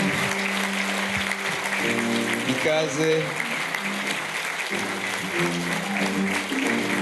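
An audience applauds to welcome the president, a dense clapping wash running under a man's continuous amplified speech.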